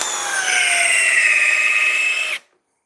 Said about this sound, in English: Best drill for the homeowner, the Rigid Subcompact.